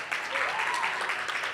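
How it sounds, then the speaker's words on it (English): Audience at the ADNOC YAS in Schools National Finals, an F1 in Schools competition, applauding the Abu Dhabi Indian School team with steady, dense clapping that fills the hall without a break. "They want a tumultuous applause"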